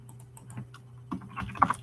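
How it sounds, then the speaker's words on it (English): Typing on a computer keyboard: a quick run of light key clicks, sparse at first and then denser and louder toward the end, close by with a low steady hum underneath. "I'm gonna type blog in chat."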